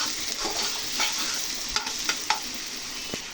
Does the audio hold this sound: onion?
yes